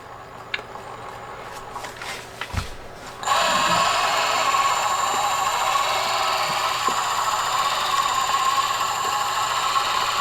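A brushless motor on an RC crawler spins at barely-on throttle, starting abruptly after a few faint clicks and then holding a steady, close, high whine with a constant hum beneath it.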